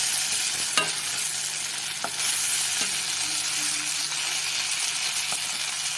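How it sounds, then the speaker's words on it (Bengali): Red lentil dhoka cakes frying in oil produce a loud, unbroken hiss and crackle, punctuated by a few brief utensil taps, with a low hum underneath. "একইভাবে আবার অন্য ধোকাগুলোও ভেজে নেব"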